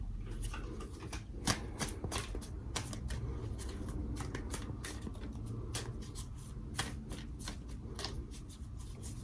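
Oracle cards being shuffled by hand during a full moon tarot reading, a steady run of crisp riffling flicks and soft card slaps that go on without a break, close and clear with no talking.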